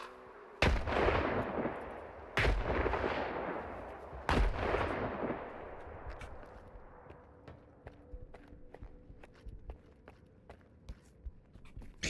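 Three loud, booming gunshots from the video game S.T.A.L.K.E.R. 2, spaced about two seconds apart, each trailing off in a long echoing tail, followed by faint scattered clicks and footsteps.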